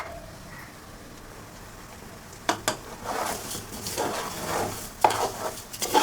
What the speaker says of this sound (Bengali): এখন নেড়ে নেই, নেড়ে চেড়ে আদা রসুন দিয়ে দেবো